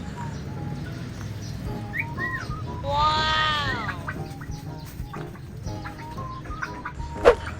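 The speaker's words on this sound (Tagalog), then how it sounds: "Ito yung alaga nating kakatil na marunong sumipol." A pet cockatiel gives a few short whistled notes and a brief warbling phrase over steady outdoor background noise, with a sharp chirp near the end.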